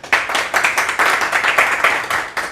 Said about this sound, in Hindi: एक बार जोरदार तालियों के साथ स्वागत कीजिए अज्जू तोमर और साथ में विवेक नौटियाल।